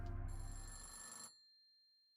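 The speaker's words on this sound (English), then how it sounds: "Pick up the phone." A telephone rings in the video game Centum, a single electronic bell tone that sounds steadily and then cuts off, leaving a faint high hum, quiet and alone.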